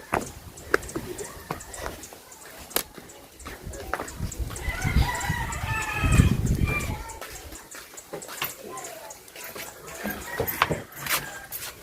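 Chicks on a roof peep in a cluster of high chirps that swell in the middle and then fade, amid scattered clicks and clatter, with people talking nearby.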